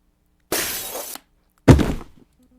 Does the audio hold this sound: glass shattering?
yes